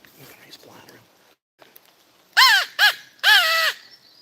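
Crows in woodland at Honobia, Oklahoma, giving three loud, close harsh caws in quick succession after a few seconds of faint rustling and soft whispered voices.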